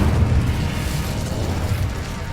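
Incendio fire spell unleashed in the Hogwarts Legacy video game, a loud, dense roaring blast with heavy low rumble sustained throughout, crackling and booming without pause.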